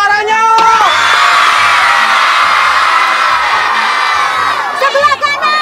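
A large crowd of children shouts and cheers at full volume, a loud sustained roar of young voices rising into whoops at the start and end.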